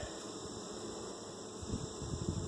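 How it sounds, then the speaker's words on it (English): Honeybees buzz steadily around an open hive during an inspection, a close, continuous droning hum with faint handling knocks near the end. "There's a nice young bee right there, look at that."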